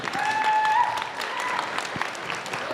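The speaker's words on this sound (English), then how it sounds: "another round of applause for Hestia" Audience applause for a soloist at a school Halloween concert, a dense sustained clapping from a crowd throughout, with a brief whistle-like tone near the start.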